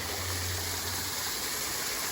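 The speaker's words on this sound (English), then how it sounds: "The waterfall." A backyard garden waterfall pours in a loud, steady rush of water close by, an unbroken wash of splashing with no voices over it.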